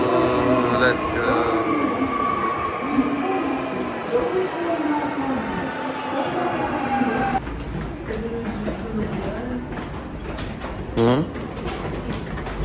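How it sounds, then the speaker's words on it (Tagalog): A train pulls into an Osaka station, a rumbling rush with rattling wheels and a brief squeal, while people chat nearby. "Ito na yung train"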